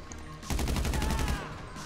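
Rapid automatic gunfire in the video game GTA 5 Online, a burst of about a dozen evenly spaced shots lasting roughly a second, loud and close.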